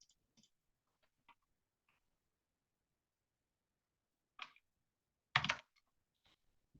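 Scattered keystrokes on a computer keyboard while a Korean word-processor document is typed up, a few faint isolated taps followed by two louder bursts of keys near the end, close and quiet with no talking.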